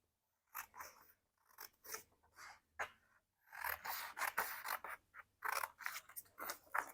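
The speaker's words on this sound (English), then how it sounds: "I'm going to take my scissors very responsibly and I'm going to cut all around the big letter K." Scissors cut paper around a large letter K in a string of crisp snipping and rasping strokes, close and clear, with short pauses between the cuts.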